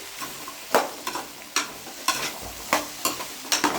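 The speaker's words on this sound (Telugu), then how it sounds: "కోసుకున్న బెండకాయలు కూడా దీంట్లో వేసుకోవాలి, బాగా ఫ్రై చేసుకోవాలి." Sliced okra frying in oil, stirred with repeated scraping strokes through a steady sizzle, several distinct stirs in quick succession, close and clear.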